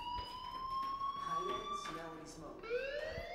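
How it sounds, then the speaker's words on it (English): Fire alarm ringing inside the Life is Strange video game, a clear repeating electronic tone that holds steady and then rises, with faint game sounds beneath it. "Do you hear that fire alarm?"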